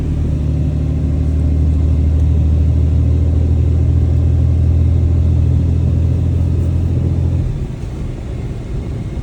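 A tuned Mega Cab truck with a deleted full exhaust rumbles loud and close as it pulls away, its deep engine drone holding steady for several seconds before dropping to a quieter level near the end.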